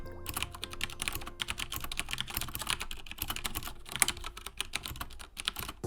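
Steady, fast typing on a Corsair STRAFE RGB mechanical keyboard with Cherry MX Brown switches, a dense clatter of soft-clicking keystrokes close by with no talking.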